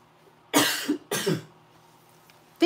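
Two sharp coughs in quick succession, close and fairly loud, followed by quiet.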